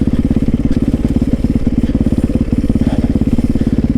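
Motorcycle engine chugging steadily at low revs while rolling through pine straw on a wooded trail, a close, continuous pulsing drone with rapid even firing beats.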